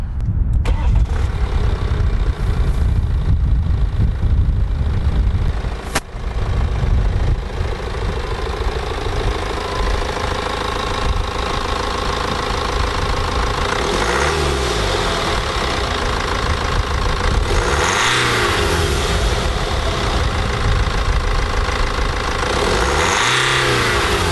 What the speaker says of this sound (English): Now we're going to start the engine so you can hear what it sounds like.